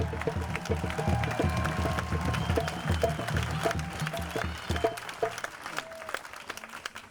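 Outdoor crowd at a peaceful rally in Peekskill, New York applauds steadily throughout, with scattered claps and some voices mixed in beneath the continuous clapping.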